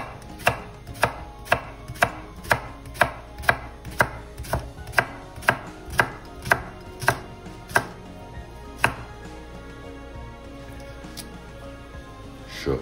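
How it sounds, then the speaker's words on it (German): A knife chops leek into rings on a board, about fifteen sharp, evenly spaced close strikes over the first eight seconds, then a few scattered cuts, with no talk. "Lauch in Ringe schneiden."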